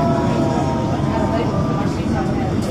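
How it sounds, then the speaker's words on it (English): A London Underground S Stock train on the Circle Line rumbles past close by, a loud continuous roar of wheels and motors on track, with indistinct voices mixed in. "I thought there's another train on by."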